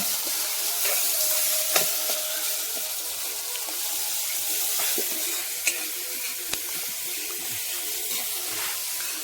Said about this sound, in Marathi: फोडणी देते आता